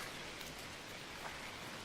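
Watering plants in the cozy simulator game Garden Life produces a soft, even rain-like patter that stays steady and close for the whole moment.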